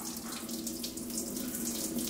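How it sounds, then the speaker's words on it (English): Water runs steadily from a bathtub tap for rinsing, a constant close splashing rush with a low hum beneath it and no speech over it. "And then you let his water out so he can rinse."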